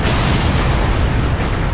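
A loud, sustained explosion in Halo: Reach as a facility target is destroyed, a dense rumbling blast that fills the whole moment without any talk.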